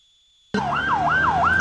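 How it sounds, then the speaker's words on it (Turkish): After a near-silent start, a loud wailing ambulance siren abruptly cuts in, sweeping up and down in a steady repeating cycle close by, at the scene of a terror attack at TUSAŞ. "bakın bir ambulans daha geliyor bu arada. Sesini duyuyoruz."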